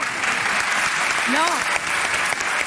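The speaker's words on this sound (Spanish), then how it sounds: "Un aplauso, por favor." A TV studio audience applauds on cue, steady clapping throughout while a voice briefly exclaims over it.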